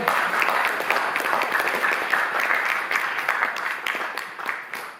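A room audience at the Goethe Institut in Paris applauds guests, a full, dense wash of many clapping hands, steady and fairly loud before tapering slightly at the end, with no talk over it.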